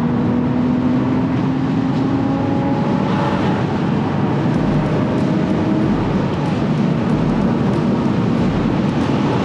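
Porsche 986 Boxster engine droning steadily from inside the car at moderate speed on a congested interstate, a continuous loud rumble with road and wind noise throughout.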